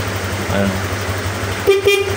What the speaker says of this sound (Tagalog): Inayos ko na rin yung busina.